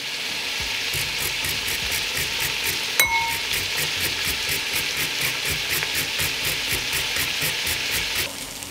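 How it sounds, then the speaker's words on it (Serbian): Four carrots grated by hand beside a pan of frying onion, a fast regular rasping of strokes over a continuous sizzle, no voices. "Dok se luk prži, izrndaću 4 šargarepe."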